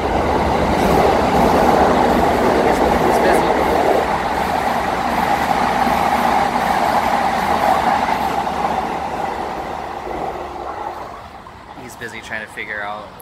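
A train at a station in Japan rumbles loud and steady for about ten seconds, then fades as it slows or pulls away, with people talking over it.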